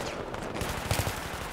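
Rapid gunfire in Battlefield 3 during the co-op Operation Exodus mission, a dense run of loud, closely spaced shots with no speech over it.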